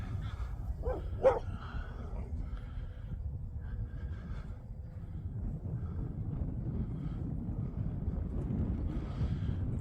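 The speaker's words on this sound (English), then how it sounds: "Oh, we got a dog." A dog barks outdoors at a field where a small electric radio-controlled plane is flying, giving a couple of short yelps early on that sound far off and faint under steady wind rumble.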